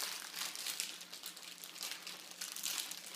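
A zipped plastic freezer bag filled with meal ingredients and chili powder is shaken, giving a continuous soft crinkling and rustling of plastic close by, with no talk over it.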